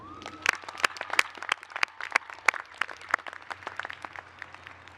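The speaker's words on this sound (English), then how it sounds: "Let's give a strong round of applause for our Titan class of 2016." Applause for the graduating class at the 2016 Cal State Fullerton commencement, a sparse scattering of distinct individual claps at an uneven rhythm, fairly near and moderately loud over a low hum.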